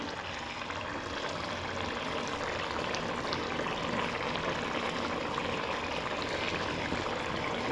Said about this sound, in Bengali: কি সুন্দর টকবক টকবক করে করছে না আলু পোস্তটা